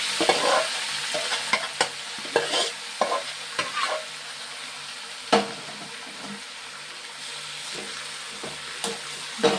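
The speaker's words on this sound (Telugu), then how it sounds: "కలుపుతున్నాను చూడండి." A spoon scrapes and stirs food around a frying pan over a steady sizzle, with irregular clinks and scrapes close by and no talking.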